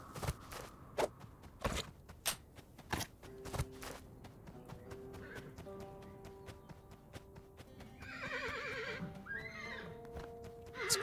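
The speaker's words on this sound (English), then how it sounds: "I just freed that horse." Horse whinnies and neighs in a western-themed video game set in a canyon, with several loud thumping hoof or footstep hits early on, then tonal game music and chirpy effects toward the end.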